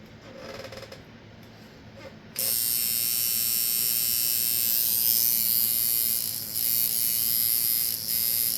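A cheap wormhole tattoo kit machine starts up with a loud, steady electric buzz after a quieter stretch, running continuously at a slow speed with slight dips in intensity.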